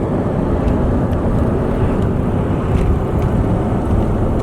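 A car drives down a highway in Willow, Alaska, giving a constant loud roar of road and wind noise from inside, steady throughout with no talking.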